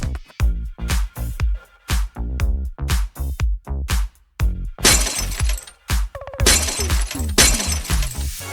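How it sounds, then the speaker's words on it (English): Car windshield glass shatters in a rapid string of loud, sharp impacts and crashes, some with ringing tails, densest and noisiest in the second half. "shattering his windshield and his ego"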